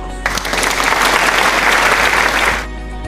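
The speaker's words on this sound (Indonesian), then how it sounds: "Mari kita beri tepuk tangan untuk teman-teman yang sudah menjawab." A classroom of students bursts into dense, steady applause that holds loud and even for over two seconds, then cuts off sharply.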